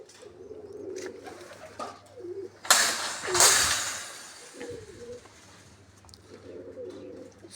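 Pigeons coo softly in low, repeated murmurs, with a sharp burst of wing flapping in the middle.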